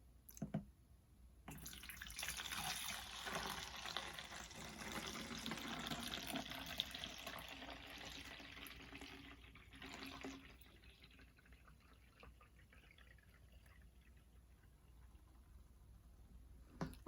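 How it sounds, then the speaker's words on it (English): Cold brew sweet iced tea poured into a Tupperware water bottle: a steady, close splashing stream runs for about nine seconds, then stops and leaves only quiet room noise. "And I take the tea and I pour it in."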